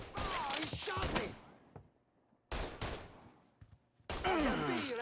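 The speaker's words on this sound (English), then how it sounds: "Oh, he shot me!" Bursts of gunfire ring out in Mafia 3, with sharp shots coming in clusters and separated by short gaps, while voices shout and talk over the shooting.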